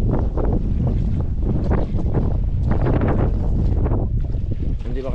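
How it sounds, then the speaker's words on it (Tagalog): Strong wind gusts over a river during net fishing, buffeting the microphone with a loud, constant roar that swells and dips, while voices are faintly present underneath. "Lakas ang hangin."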